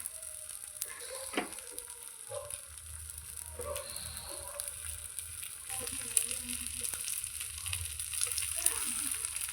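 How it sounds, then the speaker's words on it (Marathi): Appe, small rounded batter dumplings, roasting in oil in an appe pan, giving a continuous gentle crackling sizzle close by, with occasional faint taps and a slightly louder fizz toward the end. "आता ह्या बाजूनही आपण त्याला व्यवस्थित भाजून घेऊया"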